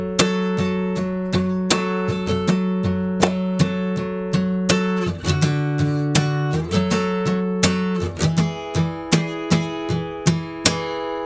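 Acoustic guitar strums the verse of a song at full tempo, bright sustained chords ringing close and loud with steady rhythmic strokes throughout, no voices.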